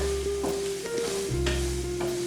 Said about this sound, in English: we'll go ahead and mix the batter in here